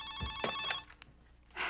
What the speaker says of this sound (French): ça commence comme tout bon film d'horreur avec un coup de téléphone très flippant